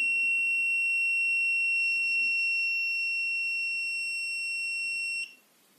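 Steady high-pitched electronic beeping from an Alcofor-307 breathalyzer after too short a blow, a continuous alarm tone lasting about five seconds before cutting off, close and clear with no talk.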